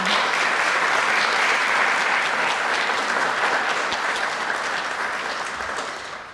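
An audience at a Cornell lecture on the Johnson Museum of Art applauds to welcome the lecturer. The clapping is steady and sustained, then eases slightly near the end, with no talk over it.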